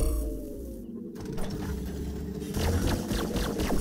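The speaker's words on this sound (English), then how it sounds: "This is a weird engine sound to this thing. It's just like a whoosh, right?" A racing ship in the space game Star Atlas makes a steady whooshing engine drone, loud and continuous, swelling brighter toward the end with airy rushing texture.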